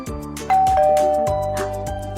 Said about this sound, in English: Did y'all hear that doorbell?